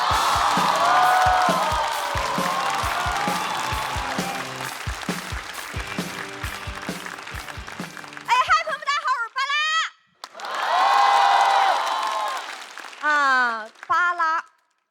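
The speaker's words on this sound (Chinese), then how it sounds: "我们掌声有请巴拉。" A stand-up comedy audience breaks into loud applause and cheering, dense clapping with whoops that fades, then a short burst of clapping returns amid bits of talk.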